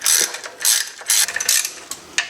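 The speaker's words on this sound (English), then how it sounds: "Some of them have longer threads than others, so I like to use a deep well 10mm socket." A ratchet with a deep-well 10mm socket loosens Vanos housing bolts on a BMW E36, giving loud, close bursts of rapid metallic clicking in repeated strokes with brief pauses between.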